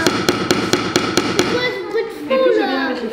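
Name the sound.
hammer striking a nail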